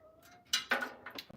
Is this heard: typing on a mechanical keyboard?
no